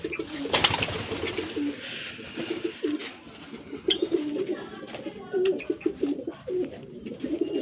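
Several pigeons coo close by in a steady run of low, rolling calls, with some rustling and light background noise, no voices.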